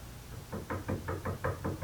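Knocking on a door, a run of about eight evenly spaced knocks in a steady rhythm, fairly close and clear with no talk over them.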